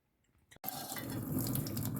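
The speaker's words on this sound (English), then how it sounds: "Put it over your sink, let it drain a little bit." Hot cooked food is drained over a kitchen sink: after a few faint drips, a sudden rush of pouring water splashes close and loud into the basin.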